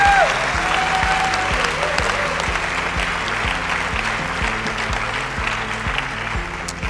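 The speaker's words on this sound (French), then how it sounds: "je veux vraiment qu'on les applaudisse" An audience applauds steadily and warmly for the whole stretch, dense clapping with a low rhythmic musical thump running underneath.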